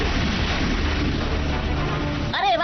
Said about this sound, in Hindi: ये तो हमारी हीरो स्टार की मिसाइल्स है, पटाखे नहीं।